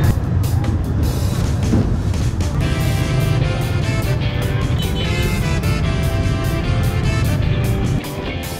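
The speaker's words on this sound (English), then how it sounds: "Traffic jam." Dense traffic jam in Hanoi's Old Quarter streets: a loud, constant rumble of engines and vehicles close by, with scattered higher-pitched noises over it and faint voices mixed in.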